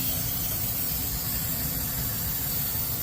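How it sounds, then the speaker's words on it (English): An aerosol can of electrical contact cleaner sprays steadily onto parts of a Lennox HVAC unit with a burnt transformer and inducer motor, a continuous close hiss with no talking. "I have my electrical contact cleaner here with me, so I'm going to use it to clean this"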